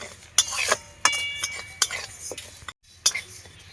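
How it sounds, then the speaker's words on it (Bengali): Moong dal being dry-roasted in a dry kadai over a stove, stirred with a metal spoon that scrapes and clinks against the pan in several sharp, irregular strokes over a soft background. "এবার মুগের ডালটা ভেজে নেবো প্রথমেই"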